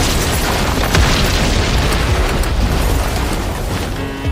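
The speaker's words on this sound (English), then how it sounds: "Within minutes, the dryer catastrophically exploded." An industrial dryer explodes catastrophically, giving a loud sustained roaring boom that fills the whole span and eases off slightly toward the end.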